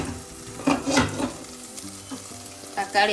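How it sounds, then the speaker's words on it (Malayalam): Small onions sauté over a low flame for a chicken curry, with a steady soft sizzle broken by a few spatula scrapes and pan knocks close by. "അടച്ച് വെച്ച് ലോ ഫ്ലെയിമിലൊന്ന് വഴറ്റാം"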